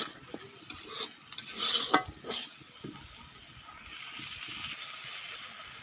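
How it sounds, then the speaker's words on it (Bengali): A spoon scrapes and stirs spice masala in a pan for aloo dum, with faint sizzling, soft clinks and a few sharper scrapes near the start, then a quieter steady hiss. "নুনটা দিয়ে আবারও আমি এটাকে কিছুক্ষণ নাড়িয়ে নেব।"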